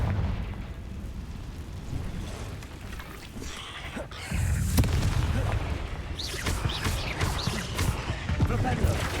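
Confringo blasting spell going off in Hogwarts Legacy, a booming explosion that hits midway and rolls on loudly with crackling debris, over game combat noise.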